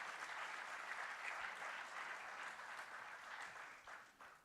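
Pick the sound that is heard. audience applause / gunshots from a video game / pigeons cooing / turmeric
audience applause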